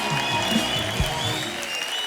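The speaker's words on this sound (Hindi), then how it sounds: "जोरदार तालियां हो जाए हमारे मेहमानों के लिए।" A studio audience on a comedy talk show applauds its guests, a brief dense burst of clapping that fills the room.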